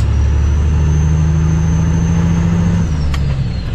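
A heavy truck engine labours under load as it climbs long hills on a highway, a loud, steady low drone with a brief air-brake hiss near the end.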